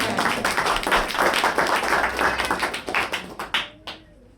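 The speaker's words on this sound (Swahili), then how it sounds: "Tupigie mkono wetu makofi" A church congregation claps hands together during a Sunday sermon: dense, loud clapping that thins into a few scattered separate claps and then stops.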